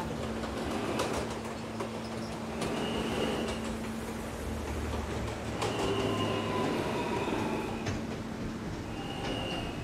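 Subway train in a Roblox game, an R160A on the F local line, running steadily with a low rumbling drone, rail squeals and brief high tones, continuous and fairly close.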